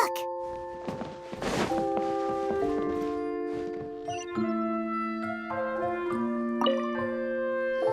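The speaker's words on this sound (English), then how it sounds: "it sounds like a water droplet is on the second floor" Water droplet dripping in a video game, a series of clear, ringing tonal drips with overlapping, sustained notes, distinct and close over a quiet background.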